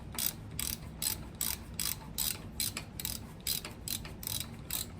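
A small bolt snugged up with a ratchet during a gas pedal install on a 1955 Buick Special with a turbo LS swap, its quick pawl clicks coming in steady bursts close up with no talk.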